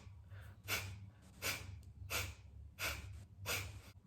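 Forceful Kapalabhati yoga breaths: five sharp, evenly spaced nasal exhales pushed out in a steady rhythm, close and fairly loud over a low background hum.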